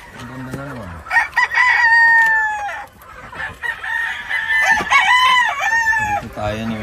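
A Sue Wilson Hatch bloodline gamefowl rooster crows loudly and close by in long drawn calls, with other clucking and crowing around it on a Philippine game farm, and no talk.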